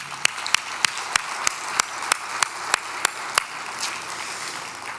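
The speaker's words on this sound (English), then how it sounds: "we can clap and celebrate." Congregation at a Christmas church service claps in a slow, steady rhythm, about a dozen sharp, evenly spaced claps over a low room murmur, fading out toward the end.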